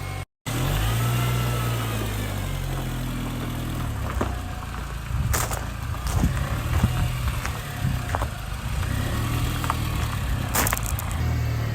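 A 2006 Mini Cooper S R53 with a freshly replaced cylinder head pulls away on a road test, engine humming at moderate revs over road and wind noise, with a few sharp knocks and rattles along the way.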